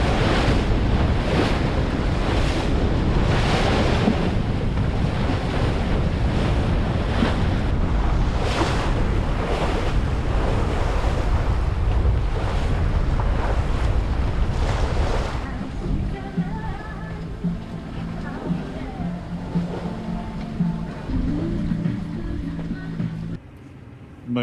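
Wind and sea on a sailing boat motoring into the tide and wind off the Welsh coast, loud rushing gusts and slapping waves buffeting the microphone, then a quieter stretch with an engine-like drone and faint talking.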